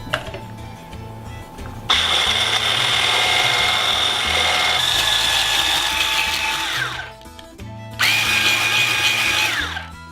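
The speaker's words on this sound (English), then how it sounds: "And my handy dandy immersion blender" An immersion blender fitted with a whisk attachment whips cream flavored with vanilla extract, running in two loud, steady bursts of high mechanical whine with a brief pause between them.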